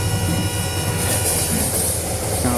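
Mumbai-Ahmedabad Double Decker Express hauled by a WDP4 diesel locomotive passing a station at full speed in Open Rails, a loud continuous rumble of wheels and carriages with a faint squeal, no speech.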